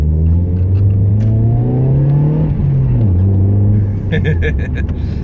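A Mazda 323F driven on the road, its engine note climbing steadily as the car accelerates, then dropping and rising again through a gear change, a close, continuous rumble throughout.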